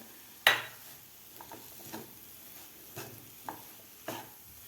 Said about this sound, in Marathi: गाजरसुद्धा आपल्याला एक ते दीड मिनिट थोडंसं सॉफ्ट होईपर्यंत परतून घ्यायचं आहे